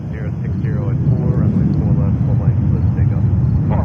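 JetBlue airliner taking off at New York's JFK airport, a steady, loud low engine roar sustained throughout with broadband rumble, heard from the ground with faint voices in the background.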